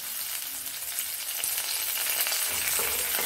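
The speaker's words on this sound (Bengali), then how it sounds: "এই কারি পাতাটা প্রথমেই তেলে ফোড়ন দিতে আমি ভুলে গেছি বলে আমি এখন দিলাম" Curry leaves dropped into hot oil for Bengali aloo posto, a crackling sizzle that grows louder toward the end, close by and unaccompanied by talk.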